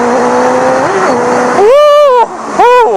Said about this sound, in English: Let's go ahead and accelerate from 2nd gear here.